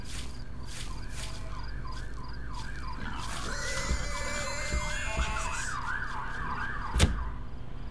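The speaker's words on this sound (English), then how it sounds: "Bloody fucking ambulances." Ambulance siren wailing from a distance over steady road traffic noise, its rising and falling tone cycling repeatedly and swelling slightly as it passes, with a sharp knock near the end.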